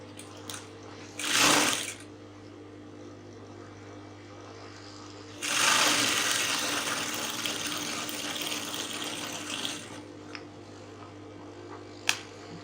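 A sewing machine joins the side seam of an ankara triangular-waist corset with a 1-inch allowance, running in a short burst and then a longer steady stretch over a constant low hum, with no talking.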